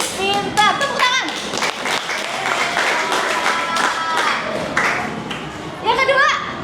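Children in a classroom clap their hands together in a dense, steady patter of many small claps, with lively kids' voices and a teacher speaking over the noise throughout.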